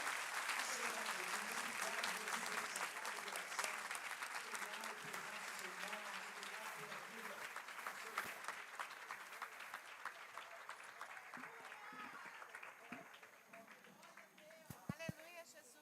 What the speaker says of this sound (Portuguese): Vamos aplaudir mais forte o nome do Senhor.